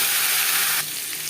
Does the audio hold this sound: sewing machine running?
no